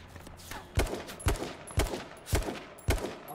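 Gunfire in the game H1Z1: six sharp, heavy shots land at roughly half-second intervals, loud and close, with no talk over them.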